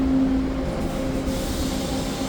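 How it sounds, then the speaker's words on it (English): A TTC Line 2 subway train departs Kipling Station eastbound, giving a steady loud rumble of rolling cars and motors with a brief tonal whine at the start, heard alone without talk. "this train eastbound to Kennedy is departing"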